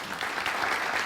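Audience applause fills a Q&A session with Indonesian politician Fahri Hamzah, a dense steady clapping from a crowd throughout the short moment.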